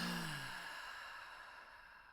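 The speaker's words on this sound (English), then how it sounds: "Take a deep breath with me." A long, slow exhale of breath, soft and airy, trailing off gradually after a brief voiced start.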